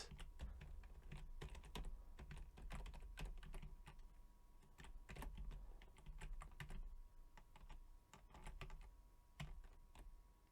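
Computer keyboard keys tap steadily and close by while a game is played on an emulator, quick irregular clicks in bursts with no talking.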